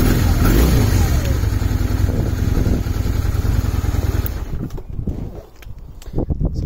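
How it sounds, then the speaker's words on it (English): A cold 1992 Honda Steed 400 motorcycle starting up and idling: a loud, close, steady engine rumble that drops away near the end to a lumpier, quieter idle with clatter. "just turn on the ignition. So it starts off very nicely."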